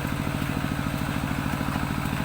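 A walking tractor's small single-cylinder engine chugs steadily at a fast, even idle, loud and close, with a rattling mechanical clatter throughout, on a muddy sugarcane field track.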